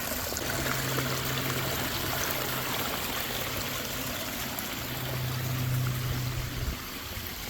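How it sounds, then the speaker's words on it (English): A small backyard pondless waterfall pours water onto a boulder, giving a steady, close rushing and trickling wash with a faint low hum that rises and falls. "How this water comes down and hits this boulder and gives you kind of this forward movement."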